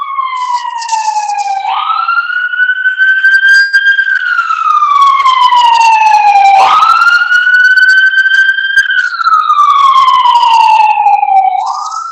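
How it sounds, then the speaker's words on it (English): A wailing siren sweeps slowly up and down, loud and close, repeating its rising and falling cycle as an emergency vehicle goes by. "there's a siren going right by me"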